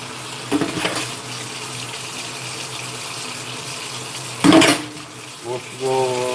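Water running steadily from a tap while someone washes off with a washcloth, a soft continuous flow broken by a few brief splashes and handling noises.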